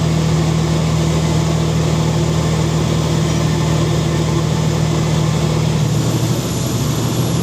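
A Cummins diesel engine running steadily, a loud continuous low drone with a strong hum and broadband roar that holds constant before shifting slightly near the end.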